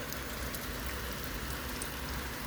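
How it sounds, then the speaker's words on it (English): Steady rain falls outside during a storm, a dense, even hiss with soft low patter, close and continuous with no voices. "because it's raining"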